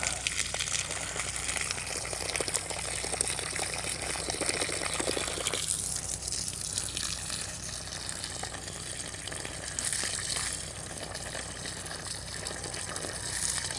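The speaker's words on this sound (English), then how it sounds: "See how much water I'm putting around this one" Fish tank water is poured from a container into soil basins around garden plants, a steady close splashing gush that runs continuously and changes tone briefly partway through as the flow shifts.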